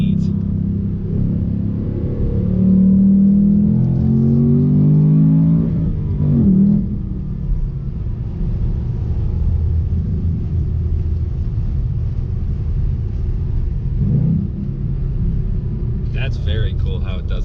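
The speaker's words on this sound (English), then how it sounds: "Rev matching on its own. That's pretty neat." A 2019 Ford Mustang Bullitt V8 blips and rev-matches on its own on a track. The engine drones loud and close, with rising and falling revs early on, then a steady rumbling cruise under cabin noise.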